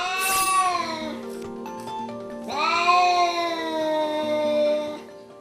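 A house cat, taken in from the street as a kitten, yowls loudly toward an empty door in two long, drawn-out wailing cries separated by a brief pause, close and alone.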